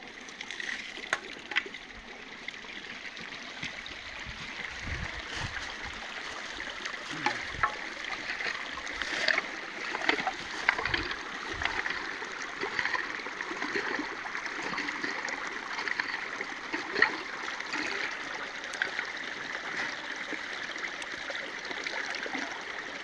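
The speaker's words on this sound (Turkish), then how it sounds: "Dere muhteşem." A small stream over quartz stones babbles and trickles steadily throughout, with soft splashes and a few light knocks nearby, no voices.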